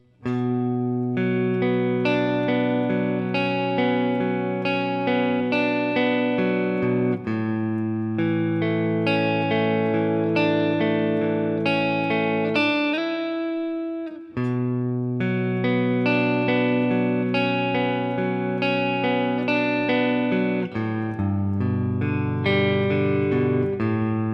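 An electric guitar plays a repeating chordal verse riff with bright ringing notes and a brief pause partway, loud and alone, with no voices.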